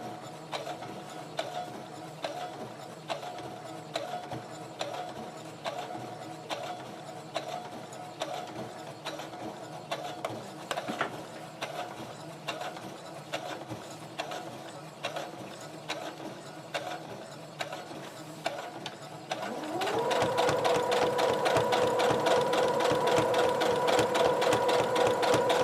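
Sewing machine stitching through the layers of a rag quilt at a slowed pace, a steady mechanical chatter of needle strokes that speeds up into a dense, louder whir near the end, with no talking.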